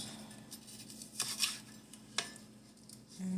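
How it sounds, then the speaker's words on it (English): A knife chops homegrown beets, giving a handful of crisp, isolated cutting-board knocks spaced irregularly over a quiet kitchen background. "And chop it again."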